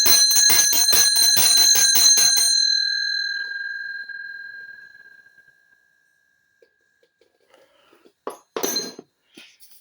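A brass hand bell rings with a rapid run of about a dozen bright strokes, and the last ones are left to fade into a long shimmering decay. A few faint clinks follow near the end.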